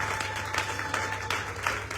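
A church congregation applauds, a steady crowd of clapping that holds through the moment, fairly close and alone without talk.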